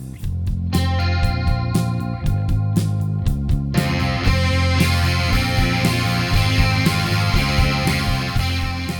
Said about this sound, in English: a mashup of our versions of two legendary pedals, the Boss DS1 Distortion and the Electro Harmonix Small Clone Chorus